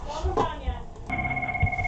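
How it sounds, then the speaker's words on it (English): A telephone rings during a test call to a Cisco UCCX contact-centre script. The steady electronic ring starts about halfway in and holds clearly over light background noise. "there it goes, it's ringing"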